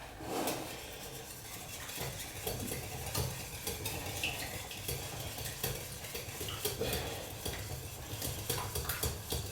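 Quiche filling is whisked in a bowl, a quiet, rapid, rhythmic scraping and tapping of the whisk that continues steadily for the whole stretch.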